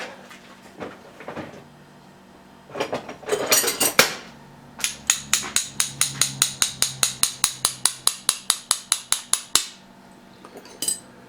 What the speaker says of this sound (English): I might have to get a little hammer and tap it out.